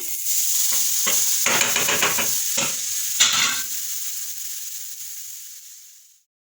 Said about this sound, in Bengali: কড়াইটা এখন গরম করতে দিয়ে দিয়েছি আর এর মধ্যে আমি এখন নারকেল সেইগুলোকে দিয়ে দেবো আর গুড় দিয়ে আস্তে আস্তে নারকেলগুলো এর মধ্যে দিয়ে দিচ্ছি